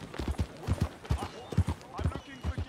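Horse hooves clip-clopping in Red Dead Redemption 2, a steady walking rhythm of hoof strikes heard close, with a voice speaking over it.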